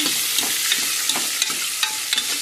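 Curry leaves sizzle in hot oil while being stirred in a pan for dal sambar, a close, steady frying hiss broken by light scrapes of the spoon and no talking.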